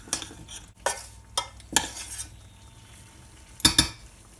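A spoon scrapes and clinks through an eggplant gratin mixture in a pot, a few irregular stirring strokes with brief metallic taps, close and moderately quiet, no talk.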